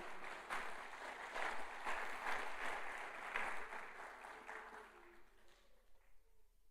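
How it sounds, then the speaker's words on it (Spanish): A church congregation claps together in warm, steady applause that swells for several seconds and then thins out and fades, heard from within the room with a little reverberation. "Denle un aplauso a Jesús."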